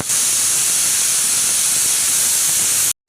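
A pressure cooker cooking mutton for Hyderabadi marag vents steam in a loud, steady, close hiss lasting about three seconds before cutting off abruptly.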